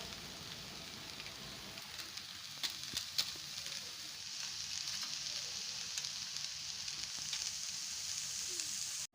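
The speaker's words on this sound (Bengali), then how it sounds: "এবার আমি নুডলসটা দিয়ে ভালো করে নাড়তে থাকলাম 5 মিনিট মতো" Maggi noodles stir-fried in a pan with spices: a steady close hiss of sizzling oil, with scattered clicks and scrapes of stirring, continuous until an abrupt stop, with no talking.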